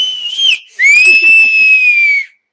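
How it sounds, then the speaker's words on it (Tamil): Shrill, sustained whistling from a group of three people blowing together, a short rising call followed by a long steady tone that cuts off abruptly. "இப்ப போக்கிரிக்காக 3 பேரும் சேர்ந்து ஒரு விசில் அடிங்களா?"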